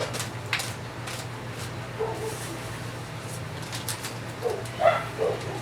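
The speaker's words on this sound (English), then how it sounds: "I don't know why the dogs are barking." Dogs bark faintly in the distance, a few scattered yips and barks over a low background rumble and some noise nearby.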